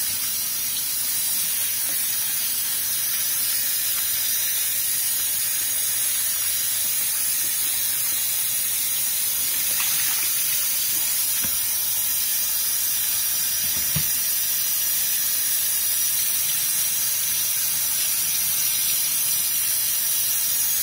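Kitchen tap water runs steadily into a sink while flounder is rinsed. A constant, close hiss and spray lasts the whole time with no break, and there is no talking.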